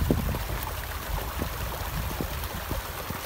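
Water from a mountain waterfall streams steadily into Rainbow Lake, a continuous rushing, gurgling wash with faint splashes, close and even throughout with no voices.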